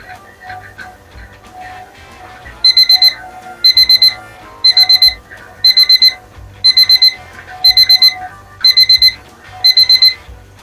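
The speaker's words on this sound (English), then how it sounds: "so I'm going to set my timer for 10 minutes." A kitchen timer beeps in rapid bursts of high electronic tones, eight repeated clusters at a steady rhythm, loud and close over faint background noise.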